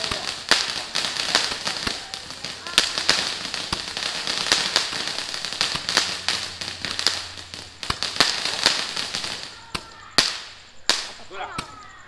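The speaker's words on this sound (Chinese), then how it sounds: "小烟花，小烟花，小烟花。" Small fireworks crackle and snap outdoors on Chinese New Year's Eve, a long dense string of sharp pops and fizzing crackle that thins into scattered, louder isolated bangs near the end.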